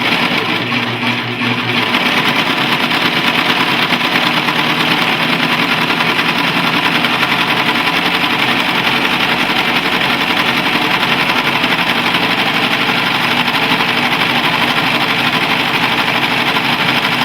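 A Singer Professional Five serger runs loud and close while sewing a safety stitch, its motor and needles keeping up a continuous, even mechanical whir from start to finish.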